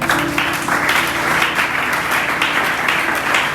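A church congregation applauds in a steady, dense wash of clapping that holds loud and even throughout, with faint music underneath.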